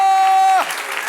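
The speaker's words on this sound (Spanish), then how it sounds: "Dale un aplauso, Señor." Church congregation applauding during a Spanish-language worship sermon, a dense burst of clapping that starts loud over a sustained tone and then thins out toward the end.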